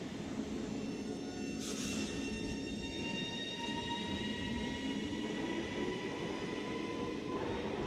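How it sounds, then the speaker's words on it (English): Northern Class 331 electric unit 331108 pulling away from Rainhill station, heading for Liverpool Lime Street: a steady rumble of wheels on rails, with a motor whine that rises in pitch as the train gathers speed. No talk is heard. "331108 departs Rainhill now with the 16:30 Northern service to Liverpool Lime Street from Manchester Airport"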